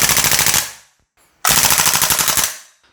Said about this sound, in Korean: 셀렉터를 풀 오토, 연발 모드에 넣고 당기면